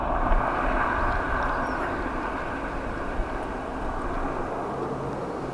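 An eight-year-old ATR turboprop airliner on approach to Dublin Airport, heard as a steady, moderately loud engine drone with a broad rumble that holds evenly throughout, with no talking.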